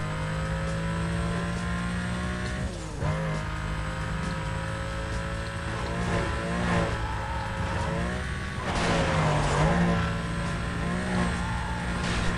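Need for Speed: Most Wanted gameplay with a steady car engine drone, revs rising and falling, plus bursts of impact and skid noise from crashes, continuous and fairly loud.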